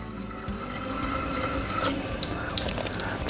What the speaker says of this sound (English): So I'm going to pull a sample directly out of the faucet here so you can see how clear it is.